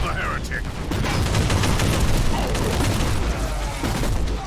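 Autogun fire in Warhammer 40,000: Inquisitor, a dense continuous roar of rapid gunshots and blasts filling the whole stretch, loud and unbroken.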